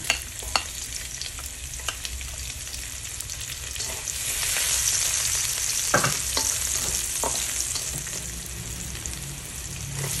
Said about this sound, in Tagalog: Ngayon, mag-gisa na tayo. Unahin natin itong ating bawang.